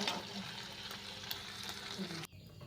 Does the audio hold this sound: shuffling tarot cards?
no